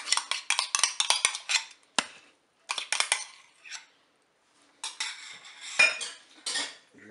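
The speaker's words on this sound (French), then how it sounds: "Je mélange à nouveau." A utensil scrapes and clinks against a bowl while stirring a salmon terrine mixture with fromage blanc in a Cookeo multicooker pot, in bursts of quick close metallic strokes separated by short pauses.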